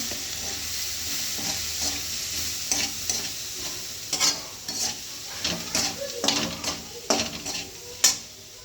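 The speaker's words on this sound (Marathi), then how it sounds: "टाकले हळद आणि घरगुती मसाला परतून घेऊया छान" Turmeric and homemade masala being sautéed in a pan while making wangyache bharit, an eggplant dish: a steady low sizzle with repeated scraping stirs and spatula clinks against the pan, growing sharper and louder toward the end.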